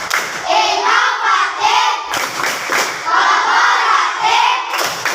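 A group of schoolchildren at an Indonesian elementary school, SDN 07, shout a loud rhythmic clapping chant together, with dense crowd voices, cheers and claps in two bursts.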